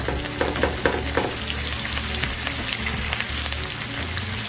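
A ribeye steak fries in a pan with a dense, continuous sizzle and crackle, close and steady, with a few soft knocks early on and no voices.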